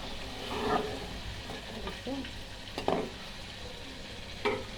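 Spice masala for greens frying and being stirred in a pan, a soft continuous sizzle broken by several scraping stirs, close and moderately quiet.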